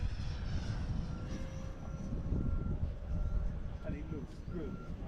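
An E-Flite F-15 RC jet flies hard and fast in an outdoor session just before a storm, its steady whine holding loud and continuous throughout with a few rising and falling passes and voices under it.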